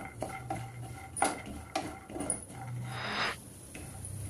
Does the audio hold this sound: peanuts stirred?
yes